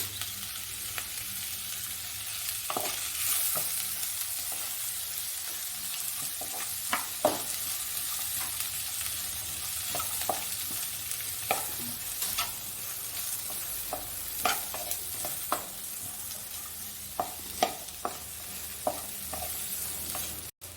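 Sliced onions fry with curry leaves and a pinch of salt in a pan, giving a steady soft sizzle broken by scattered clinks and scrapes of a stirring spoon.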